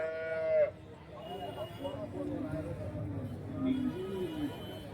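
A cow gives one loud, drawn-out moo at a cattle market in Karimangalam. Quieter bovine calls and chatter follow in the background.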